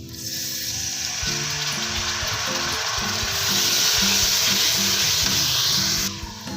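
A splash of water hits hot oil in a fish karahi pan, setting off a loud, steady frying sizzle that swells midway and cuts off near the end, with rhythmic scraping of stirring underneath.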